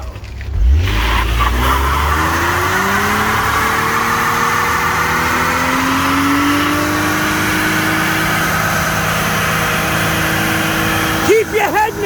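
A 1998 Lexus SC 300 with a 2JZ engine spins its tires in a neutral drop, a loud sustained screeching squeal over revving engine noise lasting most of the clip, with shouting voices heard around it.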